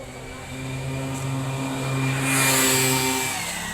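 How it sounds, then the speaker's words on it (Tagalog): Motorcycle engine on a waterside road near a boat landing, a steady mid-pitched drone that swells louder as it draws closer and passes near the end. "Bilisan mo, may motor."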